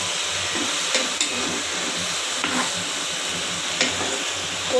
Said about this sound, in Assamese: এয়া চাওক, আমি ইয়াতে কচুখিনি দি দিছোঁ। লৰাই লওঁ। ভালদৰে লৰাই দিছোঁ আমি।